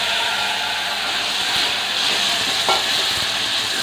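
Chicken dropped into a hot chili tempering in a pan sizzles loudly and continuously up close, with a brief stirring scrape, no talking.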